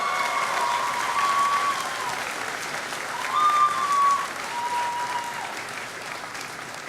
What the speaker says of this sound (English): enjoy a much-deserved round of applause